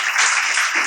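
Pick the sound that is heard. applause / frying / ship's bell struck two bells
applause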